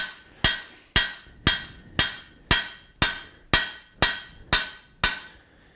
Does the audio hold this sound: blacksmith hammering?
yes